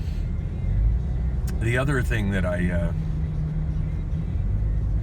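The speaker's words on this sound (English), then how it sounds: "dang, this traffic is unexpected" Freeway traffic heard from inside a car, a steady low rumble of road and engine noise beneath someone talking briefly in the middle.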